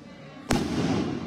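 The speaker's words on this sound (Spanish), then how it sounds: "si están escuchando los cohetes, pues bueno, aquí están" Firework rockets set off at a religious procession in Sahuayo, with one sharp, loud blast that leaves a rumbling, crackling wash fading out after it.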